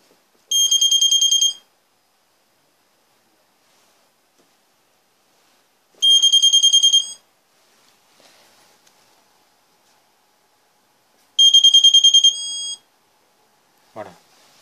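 An AVISS RP ADDRES IV fire alarm panel sounds three loud, shrill beep bursts of about a second each, spaced several seconds apart, with near silence between them and a short voice at the end.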